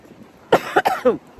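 A person on a tour bus coughs several times in a short burst of three or four close, rough coughs with quiet background around them.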